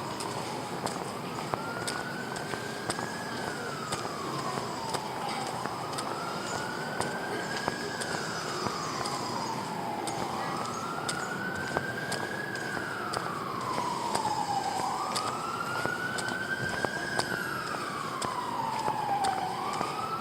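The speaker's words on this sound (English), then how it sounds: "Don't hear it so much over here as you do in England, sirens." An emergency vehicle siren on a street in the Philippines wails in slow rising and falling sweeps, repeating about four times at a moderate distance over a steady hum of traffic.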